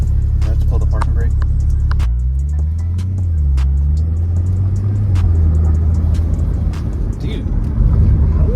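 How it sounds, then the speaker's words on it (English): Wind noise inside a moving 570 hp Porsche 911 Turbo S: a steady low rumbling rush with a shifting engine drone underneath, close and continuous, with people talking inside the car. "I don't know if that's the turbo I'm hearing or... Oh, you know, it's the wind noise."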